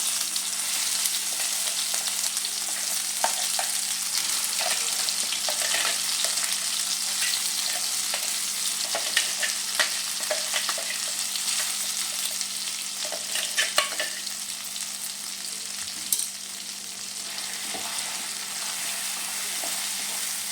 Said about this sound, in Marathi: आता आपल्याला वाटलेले वाटाणे घालून घ्यायचं आहे